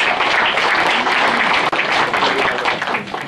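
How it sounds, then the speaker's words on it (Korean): Dense, steady applause from a crowd at an alumni association New Year gathering, loud and continuous throughout with no voices on top. "박수 좀 부탁드리겠습니다"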